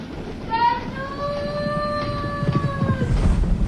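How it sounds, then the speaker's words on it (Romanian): A passing train sounds a long horn with several steady tones, held for a few seconds over a continuous rumble of rolling wheels, fairly close and loud. "Feriți trenul că ne cală peste noi!"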